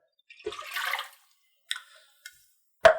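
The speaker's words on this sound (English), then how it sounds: "So first thing we're going to do is we're going to add our water" Water poured into a mixing bowl for pizza dough, a short splashing gush followed by a few brief sloshes and drips, close and fairly quiet in an otherwise silent kitchen.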